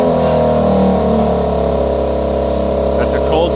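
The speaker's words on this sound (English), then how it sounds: "That's a cold start, idle" A BMW X3 M engine idling steadily after a cold start, a loud, close, even rumble with a deep hum and no revving, holding constant throughout.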